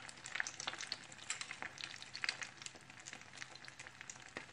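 Egg-coated grilled sticky rice fries in a pan over high heat, giving a steady close crackling sizzle with small popping bursts throughout and no voices.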